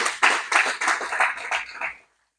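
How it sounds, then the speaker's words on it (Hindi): Audience clapping hands together at a naturopathy and yoga talk, a burst of loud, dense applause with sharp rhythmic peaks lasting about two seconds before cutting off. "एक ताली अपने लिए जोर से बजाएं"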